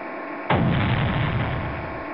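Torpedo explosion in the Aces of the Deep submarine game, a single sudden heavy blast that booms in and rolls on as a long rumbling decay, with no talk.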